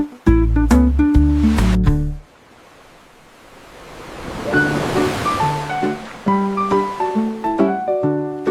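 A soft, hissing wash of blue-ocean surf swells up after a burst of bright children's-song music, then keeps rolling steadily beneath the returning melodic notes.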